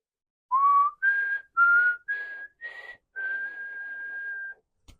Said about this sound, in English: Just a whistle.